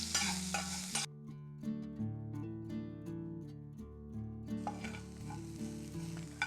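Chopped onion with cumin and curry leaves sizzles in a hot pan, a soft frying hiss and occasional stirring under tuneful background music, fairly quiet and without speech.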